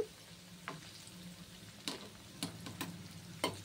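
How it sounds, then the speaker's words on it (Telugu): Idli pieces frying softly in a pan until reddened for crispy chilli idli, a faint low sizzle punctuated by several sharp pops and clicks, no talking. "కొంచెం ఈ ఇడ్లీ రెడ్ కలర్ వచ్చే వరకు వేపుకోవాలి"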